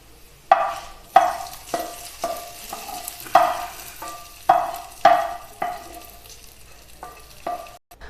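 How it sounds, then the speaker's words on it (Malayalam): Tempering of spices and leaves poured into a cauliflower curry, giving repeated bursts of sharp sizzling and spatter at irregular intervals, each fading quickly, close and clear with no talk. "ഇനി നമുക്ക് താളിച്ചത് കോളിഫ്ലവർ കറിയിലേക്ക് ഒഴിച്ചു കൊടുക്കാം"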